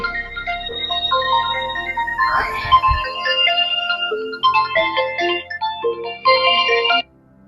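A phone ringtone plays a bright melodic tune for several seconds, then stops abruptly, leaving near silence.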